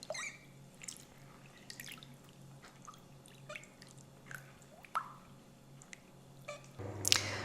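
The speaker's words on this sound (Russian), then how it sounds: "Видите, стекает еще вода." Faint, irregular drips and trickles of water draining from rice in a sieve, falling steadily in a quiet room, ending with a brief louder rustle.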